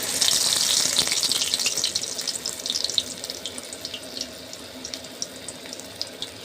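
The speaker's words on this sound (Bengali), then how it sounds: "সব টুকরোগুলোকে আমি ভেজে নিচ্ছি।" Banana flower fritters coated in gram flour sizzle in hot oil with a steady, close hiss that is loudest at first and gradually thins into scattered pops and crackles, with no talking.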